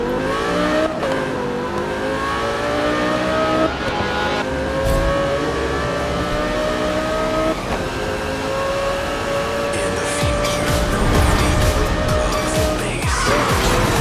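A race car engine in a video game drones loud and steady, pitch climbing through repeated gear shifts, with a brief skid and roar of revving near the end.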